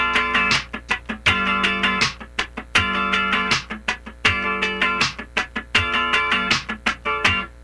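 Electric funk rhythm guitar repeating groups of four sixteenth-note strums, crisp chordal chops with short muted gaps between bursts, loud and close with no voices.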